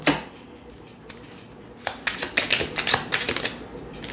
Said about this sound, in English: I just like to show you the shuffling part.